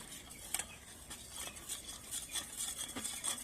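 A spoon stirs a pineapple jelly mixture thickened with cornflour, scraping and tapping against the pot in a loose, uneven rhythm. The sound is quiet and close.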